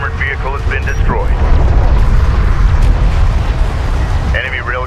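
Heavy rumbling explosion as a railgun unit is destroyed in the real-time strategy game Homeworld: Deserts of Kharak, a loud sustained boom and roar over battle noise, with voices talking at the start and end.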